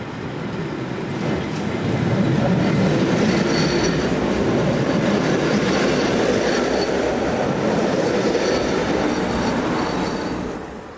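A southbound local passenger train, with locomotive 143022 on the rear, departs on a European railway in summer 2004, a loud continuous rolling rumble with faint wheel squeal that swells and then eases.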